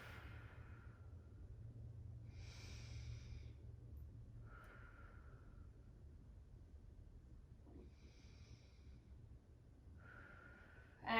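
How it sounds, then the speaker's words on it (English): Slow, deep breathing during a morning stretching routine: three long inhale–exhale cycles, close and soft, alternating hissing intakes and airy releases over a low steady background hum, with no talk. "We're going to do 3 breaths here."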